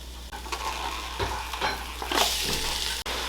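Ground turkey sizzles steadily in a pot on the stove, a close, constant frying hiss broken by scraping stirs and a light knock of the utensil against the pot.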